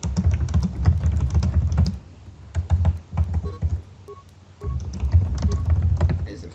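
Rapid, hard clattering keystrokes on a computer keyboard come in fast bursts, with a short quieter pause partway through, close and with no voices.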